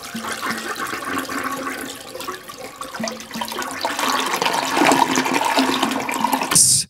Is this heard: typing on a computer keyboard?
no